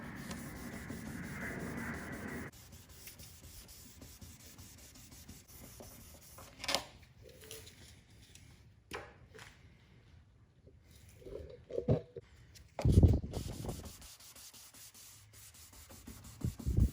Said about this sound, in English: Keep on sanding.